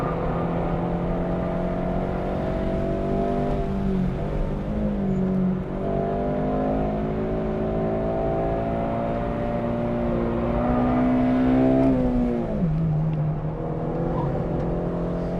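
Honda Civic Si engine held at full throttle on a race track, a loud continuous in-car drone that climbs in pitch through the revs and drops sharply at gear shifts around four, five and twelve seconds.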